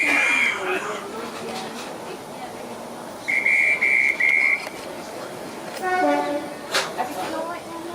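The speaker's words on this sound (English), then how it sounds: "There's a few whistles blowing." Steam-era railway whistles at a heritage line reopening day, a few sharp tonal blasts, one near the start and a longer triple toot in the middle, with further hoots later amid station bustle and people chatting.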